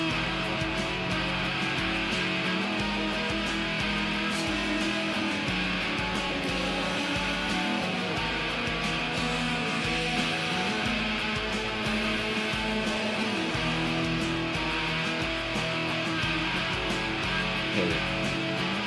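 Dense wall of loud, distorted shoegaze electric guitars over steady drums, washy and saturated, playing continuously with no talking.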